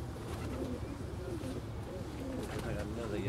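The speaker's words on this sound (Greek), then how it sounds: "στα πλάγια έχει ένα πολύ ωραίο περιστέρι" A pigeon coos softly from off to the side, its low burbling calls repeating under ongoing chatter and background noise. Someone is talking close by throughout.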